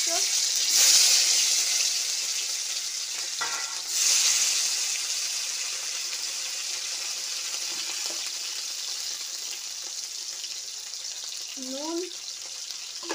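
Tomatoes with salt fry in hot oil, giving a steady hiss and sizzle with a few stirring scrapes, while someone speaks briefly over it.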